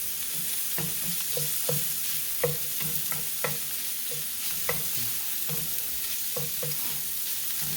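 Small cut shrimp cook in a pan: a constant soft sizzle under repeated light taps and scrapes of a utensil stirring, close and moderately quiet, with no talking.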